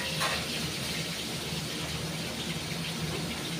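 Fish fries in oil in a wok with a dense, steady crackling hiss that holds at an even level throughout.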